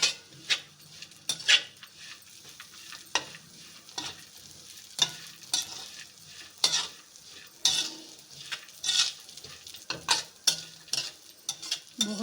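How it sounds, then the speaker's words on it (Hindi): Punjabi panjiri being stirred and roasted in a pan, with repeated scraping strokes of a spoon against metal over a soft continuous sizzle, close and rhythmic, and no talking. "दो से 4 मिनट तक लगातार हमने इसको रोस्ट करना है।"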